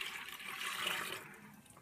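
Tap water running from a kitchen faucet into a lemonade container, a steady close-up rushing and filling sound that tapers slightly at the end.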